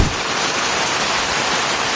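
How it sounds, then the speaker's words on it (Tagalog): Moderate rain falls on Session Road in Baguio City during Typhoon Krising, a steady, dense hiss with no pauses and no voices. "Moderate rainfall ang naranasan sa lugar, base na rin sa report ng grupo."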